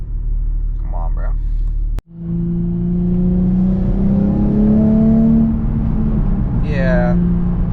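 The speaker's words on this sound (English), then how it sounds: "that rattle that you hear when I'm gassing it is not necessarily from the camber arms" A Nissan 350Z with a new race rear camber arm accelerates hard, heard from inside: the engine drone rises steadily in pitch with a rattle underneath, and a voice briefly breaks in at the start and the end.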